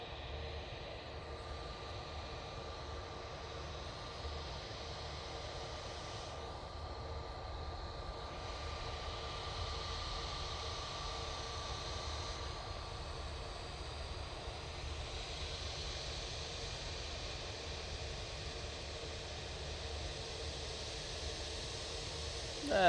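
An EasyJet Airbus A320neo takes off from Manchester Airport, a faint, distant, steady jet rumble with a low hum that holds evenly throughout.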